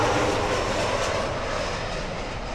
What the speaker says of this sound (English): it's another plane